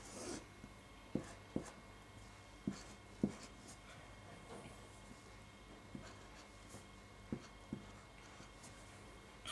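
A pen or marker sketches a graph of a quadratic inequality, giving sparse, sharp taps and scratches at irregular intervals over a quiet room hiss, with no talking.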